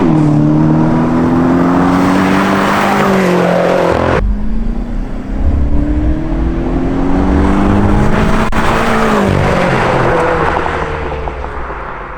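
A tuned BMW M5 accelerates hard and loud, its engine note climbing through the revs, cutting briefly at a gear change, then climbing again before easing off toward the end.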